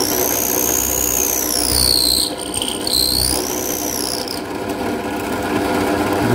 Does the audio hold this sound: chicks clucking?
no